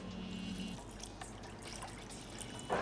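Water, 500 ml for a bun cha dipping sauce, is poured at a stove, making a faint, quiet trickle with a slightly louder splash at the end.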